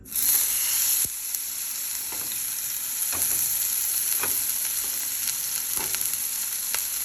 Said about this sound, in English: Our pan is now hot, so I'm just going to add our salmon fillet skin side down to the pan.